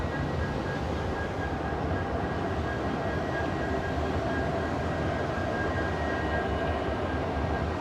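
A steady, rumbling roar of a train rolling past near the Rio Hondo basin, loud and continuous throughout with no voices.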